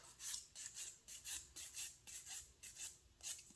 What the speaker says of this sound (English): You can take your file or your buffer and just remove the excess off.